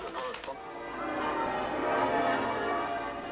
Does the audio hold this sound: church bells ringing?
yes